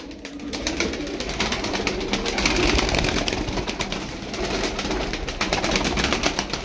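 A flock of tumbler pigeons coos in a continuous dense murmur close by, with occasional rustles and taps under the steady calling.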